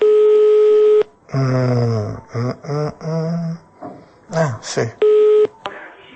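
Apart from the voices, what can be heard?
telephone line tones during a phone call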